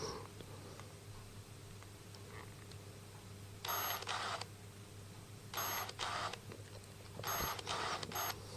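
Autofocus motor in a Sigma HSM camera lens hunting without locking: three short bursts of faint whirring buzz separated by quiet pauses, heard close up against a low background hum.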